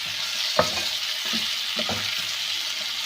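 Chopped tomatoes fry for bread upma, a steady close sizzle filling the pan with a few sharp clicks of a spoon stirring against it, no voices.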